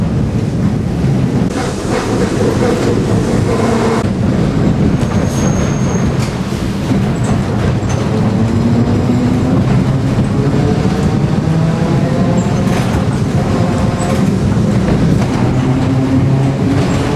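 A tram in Porto, Portugal rumbling along its rails at speed, a loud steady roar with rising motor whine and faint clatter, close and continuous.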